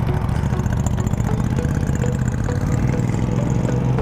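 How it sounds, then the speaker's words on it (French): A Ducati Monster 797 motorcycle fitted with a Termignoni exhaust idles nearby, giving a steady, throbbing low rumble that stays even from start to finish. "elle fait vraiment un beau bruit avec sa ligne Terminioni comme ça"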